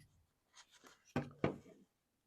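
A pencil marks a router bit position on a piece of wood, a few faint scratchy strokes, the last two firmer and louder, with quiet between.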